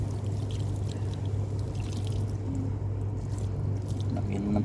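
Water pours steadily onto garden plants, including a lemon tree and an achal plant, in a continuous close splashing trickle with faint outdoor background and no voices.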